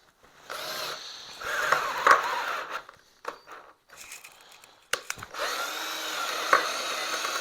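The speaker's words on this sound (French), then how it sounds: "Mode perçage, vitesse 2." An Erbauer 12V cordless drill in drilling mode at speed 2, running in several close, loud whirring bursts with short pauses between them, no talk over it.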